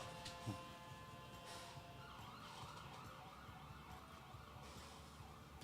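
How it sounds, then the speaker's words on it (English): Distant wailing sirens rise and fall behind steady traffic rumble, continuous and fairly faint throughout. "I don't know if you guys could hear all those sirens going on behind us."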